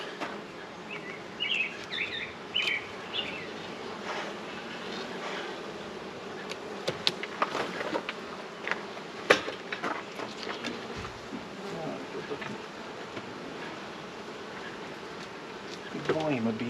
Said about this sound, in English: good volume of bees here.